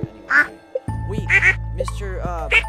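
A duck in the Stardew Valley video game quacks several times in short bright bursts, loud and close, with a person talking over and between the calls.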